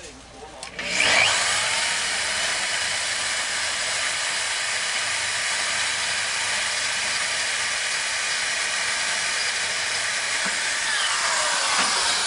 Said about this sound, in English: especially if you have a big torquey drill like this